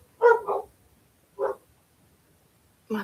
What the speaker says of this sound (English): My puppies are on the back porch.